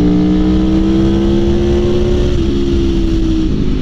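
An Aprilia Tuono V4 naked motorcycle's engine revs loud and close, a steady high-pitched V4 whine with tone shifting slightly as revs change, alone without speech.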